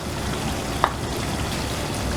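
Thick-cut onions hiss and sizzle in a hot pan for a chicken do pyaza, an even, close frying crackle with one small sharp tick partway through.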